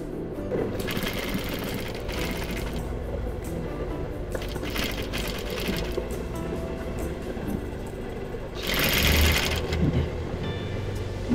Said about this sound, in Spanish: Entonces empezamos a coser allí.